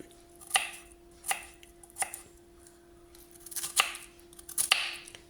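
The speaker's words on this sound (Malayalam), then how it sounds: "ചെറുതായിട്ട് അരിയണം." Purple yam is chopped finely with a knife on a board, giving about eight sharp, evenly spaced chops close by, with a faint hum underneath and no talking.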